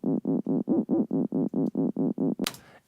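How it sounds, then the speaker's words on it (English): A low, gritty square-wave wub from Logic Pro's test oscillator pulses in eleven even, buzzy bursts, dark and growling, followed by a short sharp click as it stops. "And then wub low, which is kind of just gives it a little bit more like grittiness to it"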